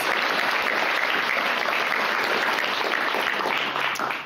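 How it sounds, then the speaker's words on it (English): Sustained applause from a crowd at a guide dog class graduation, dense and steady clapping filling the whole stretch without a break. "Let's congratulate them with one more round of applause."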